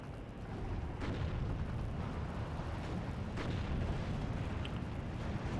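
Mortar artillery fire from the World War II strategy game Steel Division 2 sounds as a dense, continuous low rumble of distant booms, with a couple of sharper blasts standing out and no voices.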